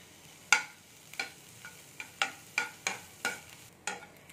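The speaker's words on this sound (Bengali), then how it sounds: "এবার এগুলোকে একটু ভাজবো, যেন কোনো কালার না আসে সেরকম ভাবে আমি একটু ভেজে নিচ্ছি।" Chopped onions and green chillies softening gently in a pan for a flour-based snack, heard as a series of about eight separate faint scraping stirs at a steady pace, close by, with no voices.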